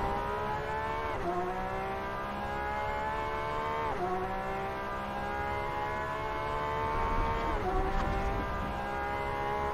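A Porsche 911 RSR race car engine howls through a hot lap at Le Mans in a racing video game. It sounds loud and close, with rising revs broken by three sharp gear-shift drops and no talk.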